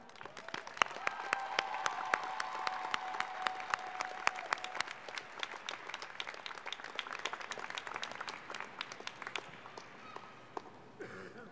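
An audience at a 2014 college diploma and awards ceremony applauds continuously, dense hand claps filling a large hall at a steady level for the whole stretch with no talk.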